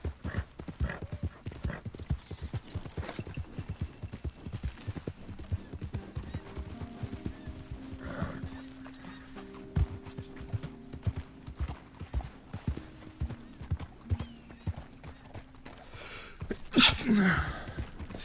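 Horse hooves clip-clop in a rapid, steady rhythm in the Western video game Red Dead Redemption 2, close and continuous, with a snort and a whinny near the end.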